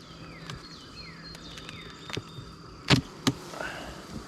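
Honey bees buzzing around a beehive outdoors, thin whining drones passing by at close range over a quiet background, with a few sharp knocks and handling clicks near the hive.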